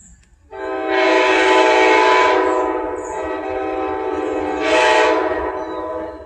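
An Amtrak passenger train led by a GE Genesis locomotive sounds its horn, a loud sustained harmonic blast that swells, drops back slightly and then flares again as the train passes close by.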